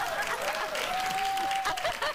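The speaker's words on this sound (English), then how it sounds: "Now the audience is clapping for me being straight." Studio audience at a daytime talk show claps steadily throughout, a dense wash of applause with a brief host voice and a faint tone riding over it.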